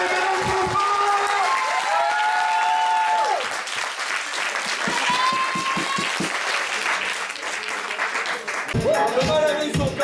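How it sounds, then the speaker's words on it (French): A wedding party audience claps loudly and steadily, with tonal sounds from an instrument or voice heard over it and a fresh burst of applause at the end. "On peut les applaudir, mesdames et messieurs"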